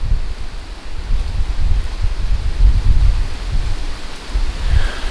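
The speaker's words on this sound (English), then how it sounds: "we're knocking 50-mile-an-hour gusts now" Loud, roaring Category 4 Hurricane Laura wind buffeting the microphone in strong continuous gusts of about 50 mph, with a low rumbling rush throughout and no voices.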